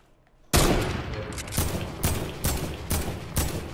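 Gunfire in Fortnite aimed at a wall: a loud opening shot followed by a steady series of evenly spaced heavy blasts, each a sharp crack with a short tail, close and dominant.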